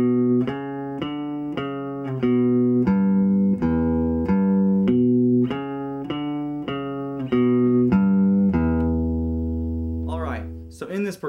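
An electric guitar plays a rhythmic rockabilly blues progression of repeated plucked notes at a medium tempo, ending on a sustained ringing chord.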